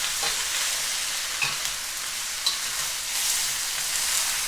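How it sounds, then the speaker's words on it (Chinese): Blanched vegetables for Buddha's delight being stir-fried in a hot wok, a steady broadband sizzle with a few sharp scrapes and clatters of the spatula, close and continuous with no talking. "就把刚才焯水的东西倒进去，把它翻炒一下"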